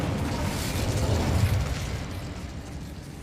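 An Incendio fire spell in Hogwarts Legacy, cast inside a goblin mine: a muffled whooshing burst of flame with a low rumbling boom, steady and fairly quiet throughout.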